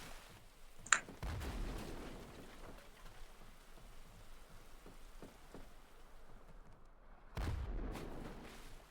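Cannon fire in a pirate video game, heard as a couple of deep booming blasts, one near the start and one late, set against a steady rain-like background hiss.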